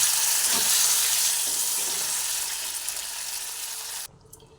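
Water poured from a bowl into a hot kadai of frying green pea paste gives a loud, steady sizzle that gradually fades, then drops away sharply near the end.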